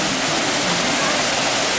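Fresh water runs steadily in a stream in Trinidad, a loud, continuous broadband rush close by with no talk over it.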